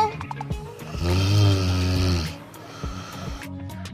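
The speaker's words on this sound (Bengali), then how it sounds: "আমি নাক ডাকার শব্দতে ঘুমাতেই পারছি না।" A single long, loud snore rumbles for about a second, with quieter breathing and faint background sounds before and after.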